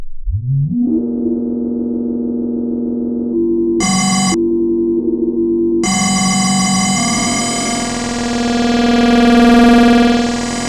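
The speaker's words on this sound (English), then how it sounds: "you can create the oscillator with the enough high frequency modulating the cutoff, resonance, and drive" A VCV Rack modular synthesizer filter, used as an oscillator by modulating cutoff, resonance and drive, glides up into a steady buzzing drone, with bright bursts switching in and out, then a harsh, swelling timbre.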